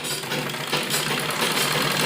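Sewing machine running a half-inch seam on a kurti neckline, a continuous fast whirring drone held close and steady for a couple of seconds.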